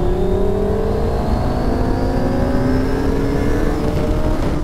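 Two 600cc sport bikes, a Honda CBR600RR and a Kawasaki ZX6R, accelerate hard together from 40 mph in third gear, a loud, steady high-pitched engine scream rising in pitch throughout, with no talking.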